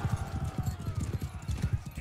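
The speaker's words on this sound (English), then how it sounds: "Charge at center enemy horse archers." Cavalry horses gallop in the medieval battle game Mount & Blade, a quick, steady clip-clop of hooves drumming close by with a faint whinny, the whole effect fairly quiet.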